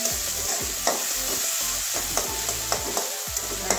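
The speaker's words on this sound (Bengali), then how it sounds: "আবার টমেটো কুচি দিয়ে দিচ্ছি, ছোটো ছোটো করে কুচি করে নিয়েছি। এটাও ভেজে নেব একটু।" Chopped tomato frying in a pan while a spatula stirs it, a continuous sizzle broken by regular scraping strokes and light clicks close by, with no talking.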